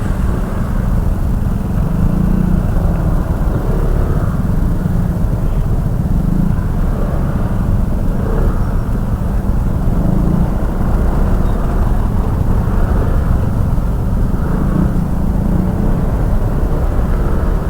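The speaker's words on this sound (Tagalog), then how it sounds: "Grabe yung traffic na to." Congested road traffic of cars and motorcycles on a freshly repaired street, a steady dense rumble of engines close around throughout, with no talking.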